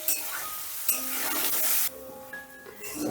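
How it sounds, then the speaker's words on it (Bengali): Soybean chunks fry in oil with salt and turmeric, giving a hissing sizzle broken by scraping stirs and brief clatters, loud and close. "এবারে নুন হলুদ দিয়ে সোয়াবিনটা বেশ লাল লাল করে ভেজে নেবো"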